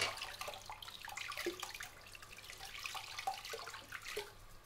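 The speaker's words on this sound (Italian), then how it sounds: "Metto un po' di acqua sul visetto." Water splashes and runs steadily nearby as it is splashed onto a face during a shave, with small irregular splashes and drips like hands scooping water, no voices.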